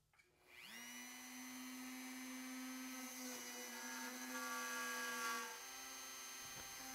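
A Dremel rotary tool mounted in a StewMac plunge router base spins up after a short pause into a steady, high-pitched whine that holds close and loud to the end, with no talking.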